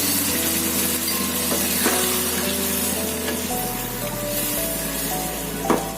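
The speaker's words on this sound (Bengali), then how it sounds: "এবার এর মধ্যে আমি জল দিয়ে দিচ্ছি।" Water goes into a hot pan of Bengali-style egg curry with whole onions and tomatoes, raising a loud continuous sizzle and hiss with faint bubbling and a few stirring clinks, heard up close.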